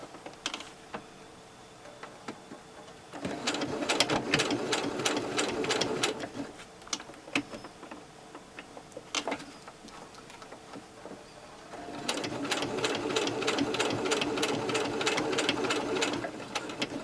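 A sewing machine stitches slippers in slow, stuttering runs of distinct needle clicks, speeding into steadier bursts around the bulky section, with quiet gaps between, close up.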